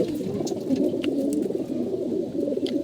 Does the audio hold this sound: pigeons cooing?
yes